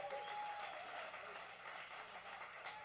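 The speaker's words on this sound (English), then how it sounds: "give him a round of applause." Audience applause at a live music show, a faint, even patter of clapping from a small crowd that holds steady for a few seconds with no talking over it.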